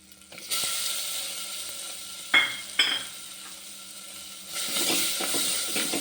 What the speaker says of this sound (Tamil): சின்ன வெங்காயத்தை போட்டுக்கலாம்